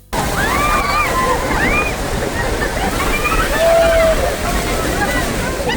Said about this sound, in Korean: 이게 바로 아메리칸 폴스와 브라이덜 베일 폴스가 되는 거죠